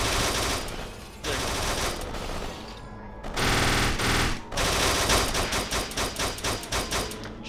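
Machine gun fire in the video game Kane and Lynch 2: Dog Days, set in Shanghai. Loud bursts of rapid shots are broken by short pauses and end in a fast, clearly pulsing volley.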